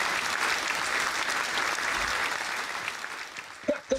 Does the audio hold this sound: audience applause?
yes